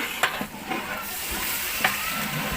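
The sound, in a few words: water added to hot oil in a wok, sizzling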